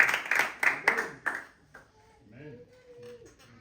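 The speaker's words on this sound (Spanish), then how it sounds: "Dale un aplauso al Señor en esta noche." A church congregation claps in a few bursts of applause that fade quickly, leaving faint voices and a tonal hum.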